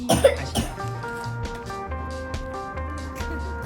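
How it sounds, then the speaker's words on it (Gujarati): A single harsh cough bursts out up close at the start, followed by a quieter stretch with faint tonal hum in the background. "એક ઉધરસ આવી"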